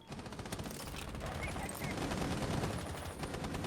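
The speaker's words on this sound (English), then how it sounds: "A lot of gunfire is being exchanged." Rapid bursts of automatic gunfire from a Rainbow Six match in a collegiate esports contest, dense and continuous at moderate volume, overlaid with commentators talking throughout.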